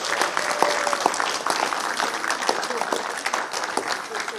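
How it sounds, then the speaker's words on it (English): A church congregation applauds first-generation members at a church anniversary gathering, a sustained clatter of many hands clapping in a hall, with a few sharper claps and faint voices mixed in. "So let's give them one more applause as they head back to their chairs."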